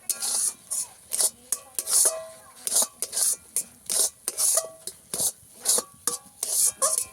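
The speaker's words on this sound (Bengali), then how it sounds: "অনবরত নেড়ে নেড়ে আমি এটাকে ডো বানিয়ে নেব।" Semolina being stirred continuously in a pan into dough for golap jam sweets: a steady run of rhythmic scraping strokes, about two or three a second, close and fairly loud, with light metallic rasping.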